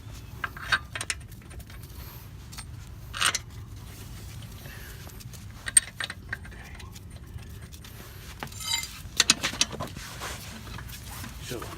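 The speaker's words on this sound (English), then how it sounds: "hold it there, and put all the lugs in first" Small metallic clinks and taps sound at close range as lug nuts are started by hand onto the wheel studs during a flat-tire change, forming sparse, irregular clusters over a quiet background.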